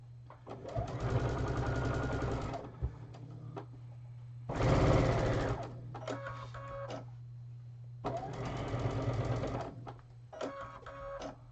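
Sewing machine stitching quilt fabric, close steady whirring runs of rapid needle strokes in several bursts with brief stops between, over a low constant hum, no talk.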